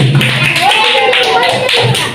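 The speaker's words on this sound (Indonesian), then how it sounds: "tepuk tangan untuk kelompok C ya, yang terakhir" A classroom of students clapping for a group, a short burst of dense hand claps with a voice talking over them.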